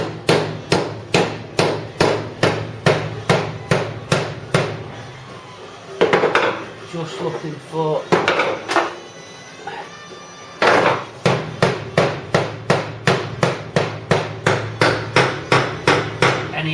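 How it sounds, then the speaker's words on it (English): Steady hammer taps on a metal body panel during a Ford Cortina GXL restoration, ringing in a regular rhythm, pausing midway while someone talks briefly, then resuming close and loud. "I won't weld if it's not flush, so I'll be tapping it along as I go"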